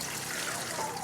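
Overnight soaking water pours off soaked black chickpeas in a kitchen, a short, soft steady trickle and splash of liquid, fairly faint.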